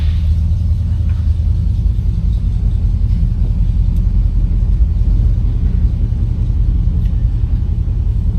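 A 1962 Chevrolet Impala SS engine rumbles at a steady idle, a deep continuous low drone close by with no talking.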